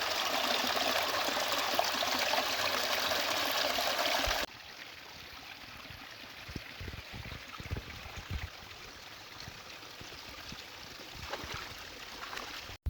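Clean water in a stream flows with a steady, faint trickling rush; a louder stretch of flow gives way to quieter gurgles and small splashes, with no talking.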